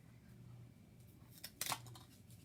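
Scissors snipping cardboard while shaping a mask's mouth, a couple of quick, faint, close cuts over a quiet room background.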